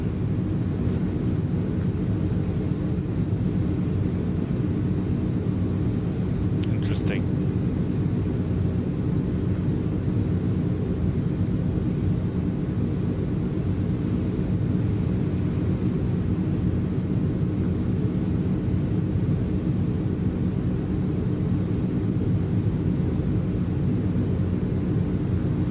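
A Transall C160 military transport aircraft lands in Microsoft Flight Simulator, its engines producing a steady, loud, unbroken drone throughout with a constant low rumble and a faint whine above it.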